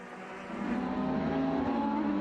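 Vintage race cars at Circuit of the Americas rev and accelerate through the corners, the engine note climbing and swelling from moderately distant to nearer as the cars pass.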